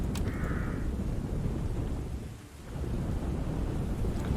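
Steady rain and a deep rumble of thunder in Total War Saga: Thrones of Britannia, with the hiss dipping briefly midway and a faint high tone early on.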